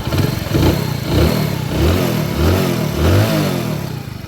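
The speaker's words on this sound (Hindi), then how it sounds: "फाइनली हमने इंजन जो है कस के स्टार्ट कर लिया। यहाँ पर साउंड सुन लीजिए इसका" A rebuilt motorcycle engine runs loud and close, with a rough, steady rumble that swells and eases slightly in waves.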